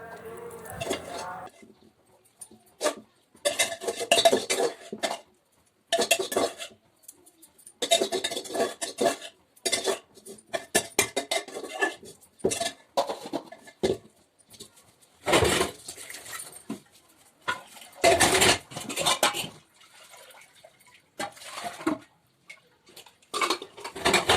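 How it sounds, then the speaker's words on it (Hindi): Dal being moved from a pressure cooker into another pot in a home kitchen, heard as intermittent clinks and scrapes of a metal utensil against cookware, close and moderately loud, coming in separate bursts between quiet gaps. "चावल निकालने के बाद मैं दाल को भी कुकर से दूसरे बर्तन में डाल दूँगी।"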